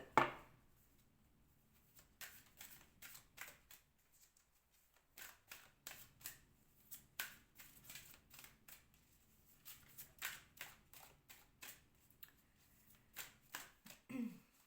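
Tarot cards handled and drawn from a deck, a string of soft crisp papery flicks and taps in irregular bursts, close and quiet, with brief pauses and no talk.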